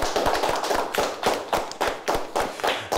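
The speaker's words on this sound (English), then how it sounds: "Let's give them a nice round of applause." Applause for a winning high school quiz team in a studio, made of sharp, fairly loud hand claps arriving in uneven rhythmic bursts close by, with no talk.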